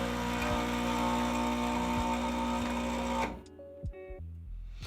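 A Baratza Encore ESP coffee grinder running with a loud, steady motor whir and hum for about three seconds, then cutting off abruptly and leaving a few faint clicks and a low rattle.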